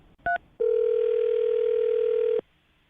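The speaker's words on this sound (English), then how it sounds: "I'm going to dial his phone number right now" A brief two-tone telephone beep, then a steady, loud continuous dial tone that holds for nearly two seconds before cutting off abruptly.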